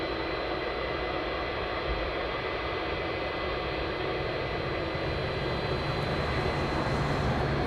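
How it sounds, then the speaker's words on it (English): A Star Air cargo plane arriving at East Midlands Airport makes a continuous, even roar of jet engine noise, loud and broadband, holding steady without pauses or talk. "the Star Air will be arriving very shortly"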